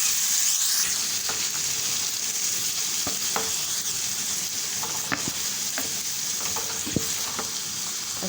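Chickpeas hit hot ghee tadka and crackle in a continuous, moderately loud sizzle, with occasional sharp pops and spoon stirring scrapes throughout; no voices.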